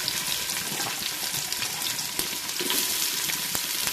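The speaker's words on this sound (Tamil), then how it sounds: "வெங்காயம், பச்சை மிளகாங்க எல்லாம் எண்ணெயில் வதக்கணுங்க" Onions and green chillies sautéing in hot oil for a mushroom biryani: a loud, dense, continuous sizzle and crackle close up, with occasional sharp pops and stirring clicks, no voices.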